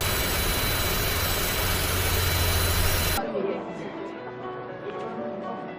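An airplane's jet engine in a film scene, a loud broadband roar that cuts off abruptly partway through, leaving quieter cabin-like ambience.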